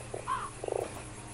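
A giant toad in the Fran Bow game gives a short series of croaks, a few low gurgling calls close by in a quiet scene, with no speech over them.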